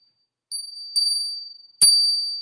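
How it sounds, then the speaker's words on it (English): A small bell in a home sacred space is rung three times, each a bright, clear, high ding that rings on and fades before the next, near and loud with no talking. "So we ring my little bell."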